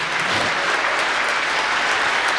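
Sustained applause from a church congregation at a Sunday worship service, a dense and constant wash of clapping filling the whole moment at strong, even volume.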